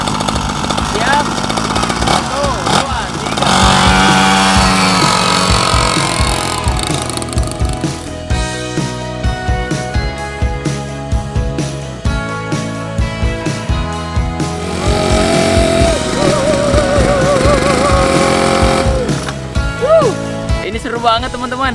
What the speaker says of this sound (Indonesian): Sekarang kita mau main motor dulu, keliling-keliling sini aja.